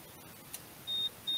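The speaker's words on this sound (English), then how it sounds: "have some beeps here because of my power supply" A power supply gives off two short, faint, high-pitched electronic beeps over a quiet background.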